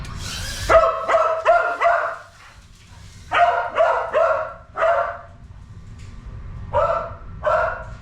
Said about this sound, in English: He's gonna bark? I bet he's gonna bark.